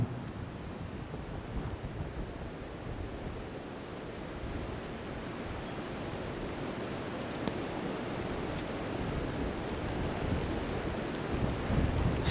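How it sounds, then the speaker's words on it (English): Thunder rumbles through a Chicago blizzard in 2011, a steady low broadband roar that swells slightly toward the end, with a few faint crackles above and no voices. "Got a little bit of thunder action going on."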